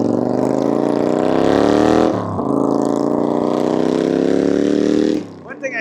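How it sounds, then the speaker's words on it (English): A motorcycle roars past on a nearby highway in summer, a loud sustained engine drone that rises and shifts pitch midway as it passes, then cuts off abruptly near the end. "one thing I hate about summer is motorcycles, especially when I live near the highway."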